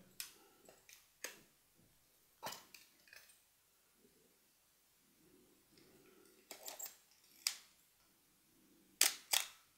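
Several sharp mechanical focal-plane shutter clicks from a Pentax Spotmatic SP film camera, spaced irregularly with quiet gaps between them, close and crisp, with faint handling noises in between.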